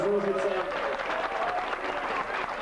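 A crowd applauds the third-placed team from Užice at a railway workers' sports award ceremony, a continuous wash of clapping with a voice speaking over it at the start.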